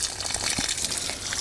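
Water gushes and splashes from a can or hose onto plants in an allotment plot, a continuous close pour with small spatters.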